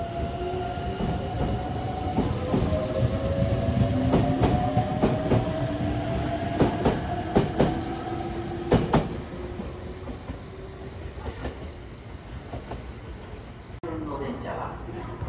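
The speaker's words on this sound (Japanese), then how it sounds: "ここの乗り換え時間はそこそこありますので、電車のお見送りをしていきたいと思います。" A Meitetsu train pulling out of Ōe station, its motor tone rising and wheels clacking over rail joints as it moves off, loud and close at first, then fading, with station sounds at the end.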